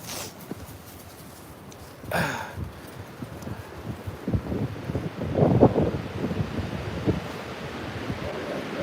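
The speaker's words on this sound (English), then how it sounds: "Oh my gosh, the wind." Strong storm wind roars and gusts against the microphone, swelling into louder rushing bursts midway, with faint muffled sounds underneath.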